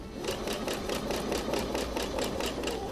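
A sewing machine stitches over basting on a winter coat, its needle driving a steady rapid rhythm of even ticks over a constant motor whir, close and alone.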